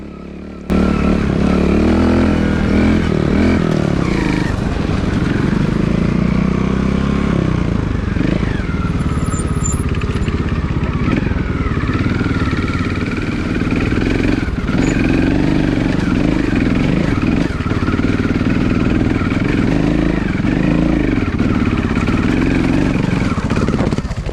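A Montesa 4RT 260cc trial motorcycle ridden on board during the Enduroc 2022 endurance event, its engine loud and close throughout, rising and falling as the rider works the throttle up a climb, with constant revving and mechanical clatter.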